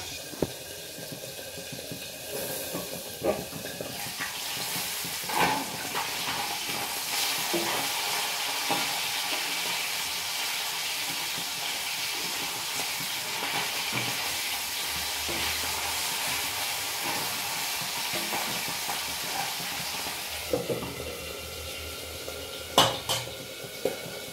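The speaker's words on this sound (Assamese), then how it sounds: "ইফালে মাছ ভাজিছোঁ" Fish fries in a pan in a home kitchen with a steady soft sizzle, broken by scattered clinks of utensils and cookware throughout.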